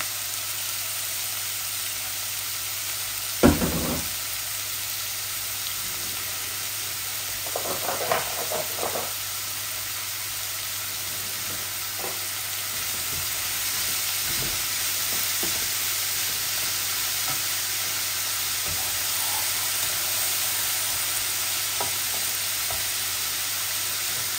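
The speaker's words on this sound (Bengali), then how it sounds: "তাই কাঁকরোল ভাজি করতেছি।" Spiny gourd (kakrol) frying in a pan with onion, ginger and garlic, a steady dense sizzle throughout with a few scattered utensil knocks and stirs, close by and without speech.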